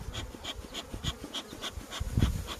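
Honeybees buzz at a hive as it is being smoked, with a soft rhythmic puffing of the smoker repeating about every quarter second close by over a low hum.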